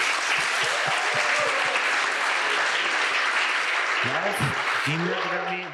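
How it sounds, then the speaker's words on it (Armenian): An audience at a panel discussion on democratic backsliding in Armenia gives the speakers a loud, steady round of applause, with a voice breaking in near the end. "եկեք ծափարենք մեր խոսնակների"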